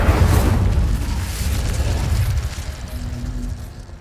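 An Incendio fire spell blast in the video game Hogwarts Legacy, a loud low boom that rolls and rumbles for about four seconds, fading gradually toward the end with no voices.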